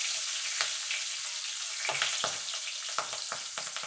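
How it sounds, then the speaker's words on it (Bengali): Nigella seeds and slit green chillies fry in hot oil as a spice tempering, a close, bright sizzle with a few crisp spits and crackles over a short stretch. "এবার ফোড়নটাকে একটুখানি ভাজা ভাজা করে নেব।"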